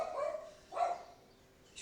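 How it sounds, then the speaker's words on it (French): A small dog barks indoors, two or three short yaps at moderate distance, the first pair close together and a fainter one at the end, with no talk over them. "Je crois que je vais aller disputer mon petit chien, parce que sinon, toute la vidéo, vous allez l'entendre."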